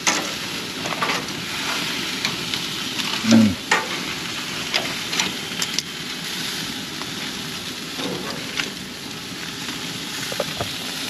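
Food sizzles steadily on a BBQ grill in Edmonton, Alberta, wrapped partly in foil, with a brief louder clatter and hiss as a piece is flipped; no one speaks.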